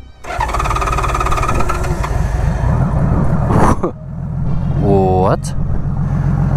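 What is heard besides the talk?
1999 Honda Valkyrie F6C flat-six motorcycle engine idling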